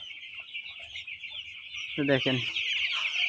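A flock of about 800 broiler chickens on a farm keeps up a dense, steady high-pitched peeping chorus, close by, with someone briefly speaking over it.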